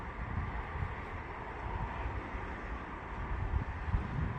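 Strong wind blows outdoors on a cool, changeable June day, a steady, dense rumble with gusty swells and no talking.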